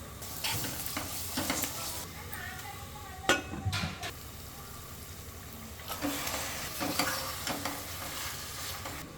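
Onion sizzles in a pan with salt, ginger garlic paste, pepper and green chilli paste for green chilli chicken curry, with steady frying and intermittent stirring scrapes, close and moderately loud.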